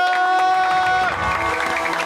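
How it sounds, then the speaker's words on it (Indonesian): People on an upper level applaud and cheer during a street charity giveaway, a crowd roar with scattered claps rising as a sustained musical tone fades out behind it. "Yang di atas boleh tepuk tangan dulu ya."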